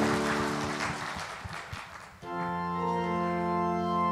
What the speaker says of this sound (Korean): 따뜻한 사랑의 박수로 한 번 더 축복하겠습니다